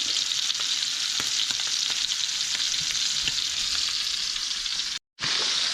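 Venison tenderloin frying in a hot pan gives a steady, loud, close sizzle that fills the whole clip, with a brief drop to near silence just after the five-second mark before the sizzle resumes.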